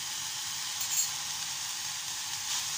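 Steady frying sizzle, fairly faint, as grated coconut is stirred into a cooking banana flower dish; a light clink stands out near the middle, with no talking.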